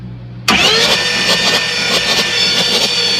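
A car engine cranks during a cylinder compression test on cylinder 5 with the glow plug out, starting abruptly after a quiet moment and then holding a loud, steady, rhythmic whirring churn close by.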